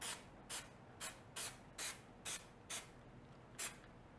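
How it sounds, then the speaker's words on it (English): Seven short bursts of contact cement adhesive spraying from an aerosol, hissing in a steady rhythm, close and crisp, with quiet pauses between them. "We'll use a contact cement here, so we'll spray both sides"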